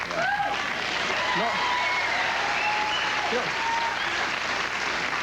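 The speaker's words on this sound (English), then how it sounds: "You don't have to applaud" A television talk-show studio audience breaks into steady, even applause, a continuous wash of many hands clapping at moderate volume throughout, with faint voices briefly audible underneath.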